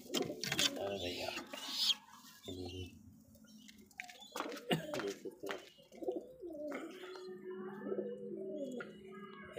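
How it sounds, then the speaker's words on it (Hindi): Pigeons cooing close by in a small loft, soft, throaty repeated coos and gurgles mixed with rustling and a few faint background sounds. "ये कबूतरी खड़ी है सामने"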